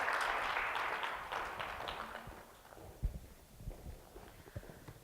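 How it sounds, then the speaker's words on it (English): Brief applause for a volunteer from a workshop audience that fades out quickly, followed by scattered soft knocks and taps in a quiet room. "Have you a round of applause for volunteer?"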